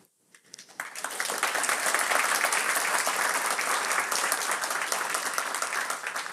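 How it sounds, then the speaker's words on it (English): An audience at a DConf conference on the D programming language breaks into applause after a talk, rising quickly from silence into a dense, sustained clapping that holds steady throughout. "another round of applause for a first timer"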